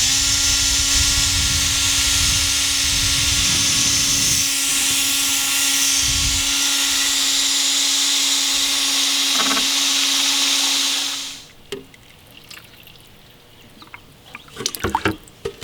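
A power drill with a mixing paddle churns a gallon of gray Plasti Dip tinted with black, a loud steady whirring drone that cuts off abruptly near the end, leaving quiet handling clicks and knocks.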